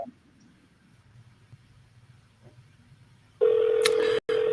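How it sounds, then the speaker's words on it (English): Telephone dialing on an office phone during live cold calls: after a quiet stretch, a loud steady phone tone starts and runs to the end with one brief dropout, close and alone without talk. "I'm going to be dialing while Jake finishes this one"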